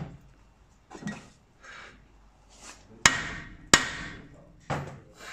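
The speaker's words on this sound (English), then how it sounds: "It might be worth getting the that plastic dead glue hammer that's hanging up in there, just to whack it off." Plastic dead blow hammer strikes on a Land Rover Discovery 2 brake disc: several sharp, loud metallic whacks spaced irregularly, with quieter knocks and handling noise between them.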